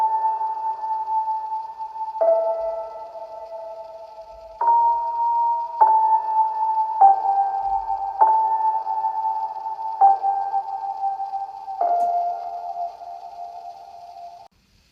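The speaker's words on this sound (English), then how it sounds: "I used the same piano sound from the Analog Lab and added a EQ to cut" A sequence of soft sustained piano notes and chords from an Analog Lab preset, processed with EQ, compression and reverb, each new note entering every second or two with a gentle attack and a smooth, ringing tail.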